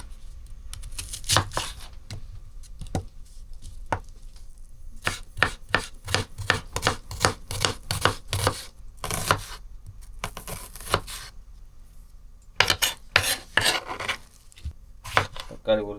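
Onions and tomatoes being chopped on a board with a knife in a home kitchen, bursts of quick, crisp close-up chops separated by short pauses, with no talking.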